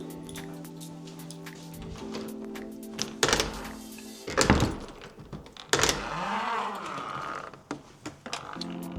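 A building door at the Forth Court City Retreat is pushed open and shut with several solid thunks and latch clicks, a mechanical rattle and creak in between, over a steady background hum.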